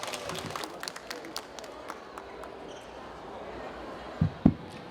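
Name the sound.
audience applause for a speaker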